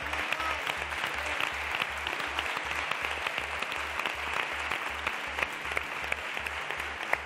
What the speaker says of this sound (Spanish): pide un aplauso para la orquesta